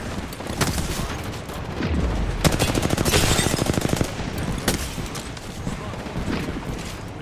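Gunfire in a video game: a rapid automatic burst of sharp, loud shots in the middle, with scattered single shots before and after, mixed with in-game voices and clattering effects.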